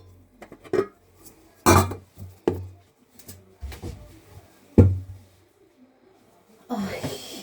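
Pots, pans and plates clank and knock as they are put away in a home kitchen, several sharp irregular clatters with quiet gaps between and a louder rattle at the end.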